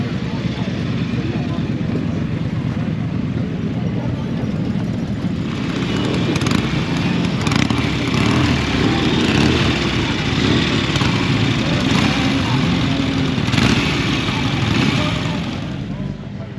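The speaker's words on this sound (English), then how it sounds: "This is Mike's bike." A motorcycle engine runs steadily at a Cotswolds motorcycle and scooter gathering, a loud, continuous rumble that stays close and unbroken for the whole stretch, with a few brief revs or knocks rising above the drone.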